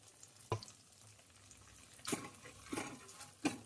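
Stirring malai and paste into methi matar curry in a pan: a few scraping, stirring strokes at irregular intervals, close and moderately loud, with no talk.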